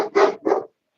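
A dog gives two quick barks close by, one right after the other, then falls silent.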